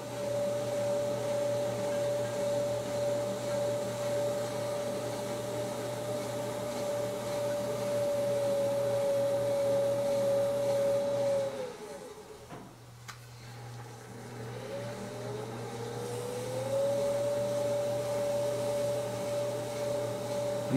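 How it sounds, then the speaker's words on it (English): Steady motor hum of a spinning pottery wheel with faint scraping as a rib trims a clay candlestick; the whir dips and pauses briefly midway, then resumes at full speed, with no talking. "I watch the far side while I'm scraping, and then just kind of apply pressure where I need to remove more material"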